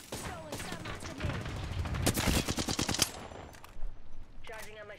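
Rapid automatic gunfire in a video game firefight, a string of sharp close bursts that peak mid-clip and trail off, with brief voice chat near the end.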